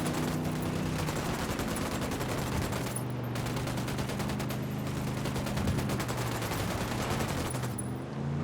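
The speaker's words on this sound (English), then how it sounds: "Opening fire." Gunfire in Ghost Recon Wildlands on PC: sustained, rapid automatic shots rattling continuously over a loud, dense in-game battle ambience, with no talk.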